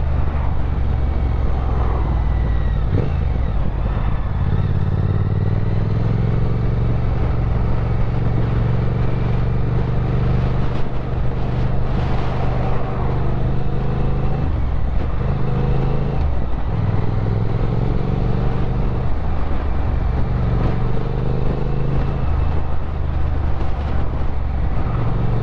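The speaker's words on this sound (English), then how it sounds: "I wonder if I'll catch the sound of the engine." A 2022 Triumph Speed Twin 1200 motorcycle engine runs while riding, a steady loud low rumble with shifting engine tones and wind throughout, without talk.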